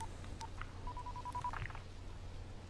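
In the Dying Light video game, a phone is dialed as a quick series of touch-tone beeps, several evenly spaced, over a quiet low hum, followed by a few brief electronic tones.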